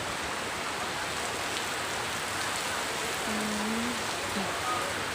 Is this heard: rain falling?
yes